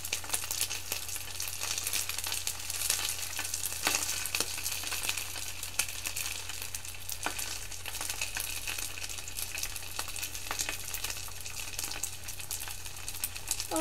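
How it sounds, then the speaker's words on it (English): Food sizzling steadily in a pan during a cooking session, a dense continuous crackle with small clicks and stirring sounds throughout, no talk over it. "It's very sizzly"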